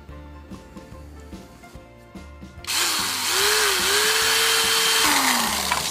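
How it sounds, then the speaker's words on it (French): A power drill bores a hole in a motorcycle part for a turn signal, starting with intermittent clicks and handling noise, then a loud continuous whine whose pitch rises and dips as the bit bites before tapering off. "Et on va percer l'autre."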